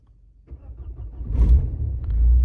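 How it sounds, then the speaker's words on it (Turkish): A Renault Megane engine, left unused for a long time, cranks and catches with a loud burst, then settles into a steady low idling rumble close by, with no talking. "Uzun zaman sonra tek marş basalım şuna"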